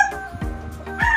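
A young gamecock stag gives short, throaty clucks, two or three quick calls within about a second, heard close and fairly loud.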